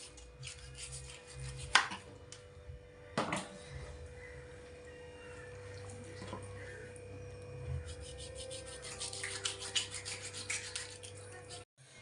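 A knife slices a tuna into pieces with irregular rubbing, rasping strokes and a few sharp knocks on the board, moderately close over a steady low hum.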